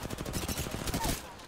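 Rapid automatic gunfire in the Apex Legends video game, a fast stuttering burst of shots that runs for about a second before tailing off, with a voice talking beneath it.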